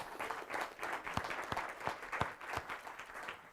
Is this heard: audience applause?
yes